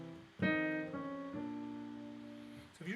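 Piano playing a short bebop enclosure lick: a few struck notes circling toward a target tone, each attack ringing with sustained harmonics, clear and close with no voice.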